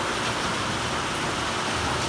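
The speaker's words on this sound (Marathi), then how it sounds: "पाऊस चालू झालेला आहे जबरदस्त" Heavy rain pours steadily in a dense, even hiss with no other sound standing out.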